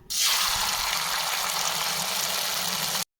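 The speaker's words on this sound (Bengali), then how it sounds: "কুমড়ো পাতায় ডালের মধ্যে এভাবে ভালো করে ডুবিয়ে নিলাম এবার তেলে ছাড়বো" Pumpkin leaves dipped in lentil batter hit hot white oil in a wok and sizzle, a loud, dense, steady frying hiss that starts abruptly and holds for about three seconds with no voices.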